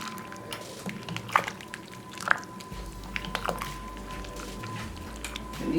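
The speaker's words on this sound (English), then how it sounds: "Let me stir that and see how much." Chicken noodle soup with yolk-free egg noodles stirred in a pot, soft wet squishing and a few clinks of the spoon against the pot over a low hum, no voices.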